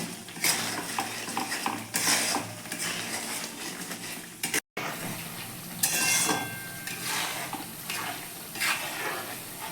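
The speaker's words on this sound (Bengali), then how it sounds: "এবার আস্তে আস্তে জাল দেবো এটা যতক্ষণ না এটা কালচে রং ধরে" Milk cream slowly heating in a pan for homemade ghee, a gentle continuous sizzle with repeated metallic scrapes and clinks of a spoon against the pan, close up, with one brief dropout midway.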